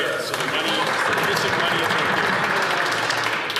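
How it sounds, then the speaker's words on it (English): Applause fills the House of Commons during Question Period, a brief burst of dense, steady clapping from many members, loud and close, with voices mixed in beneath. "Big round of applause there."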